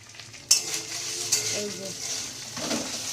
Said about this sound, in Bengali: এটা ফ্রাই করছি একদম, দেখো। আর নারকেল ফ্রাই করছি